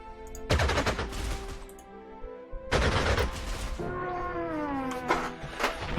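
Gunfire from units shooting at enemy positions in the WWII strategy game Panzer Corps, set at Modlin in 1939: two loud bursts of rapid shots, the second running longer and trailing into a rising, wavering effect tone.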